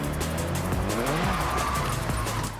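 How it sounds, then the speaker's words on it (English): A Mazda RX-7 with a rotary engine races in a video game, its engine droning steadily while tires squeal and skid through a turn, loud and continuous with no talking. "It's a rotary engine,"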